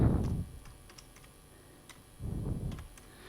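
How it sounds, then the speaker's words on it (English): Computer keyboard typing, done left-handed at a desk, comes as soft scattered key clicks between two short bursts of low rumbling noise near the start and end. "I'm typing left-handed, so I haven't got any capital letters."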